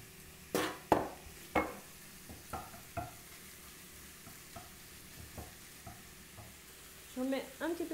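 Minced beef frying in a pan with olive oil and garlic, stirred with a utensil: a steady close sizzle broken by several sharp scraping stirs, with a busier burst of scraping near the end.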